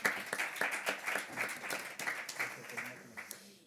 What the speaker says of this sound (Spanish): Aplauso para él.